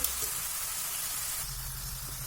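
Raw banana slices fry in hot oil for banana chips, giving a steady, fairly quiet sizzle and hiss that runs without a break from start to finish.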